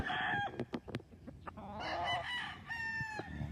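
Chickens on a large breeding farm in Lipa City, Batangas crow and cluck close by, several sharp calls followed by a longer crowing phrase, with no talk.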